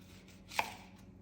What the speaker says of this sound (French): Alors ici pour l'oignon, je viens le détailler en rondelles.